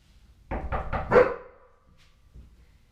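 A quick run of four sharp barks from a dog at the door close by, the last one loudest, followed by softer trailing sounds.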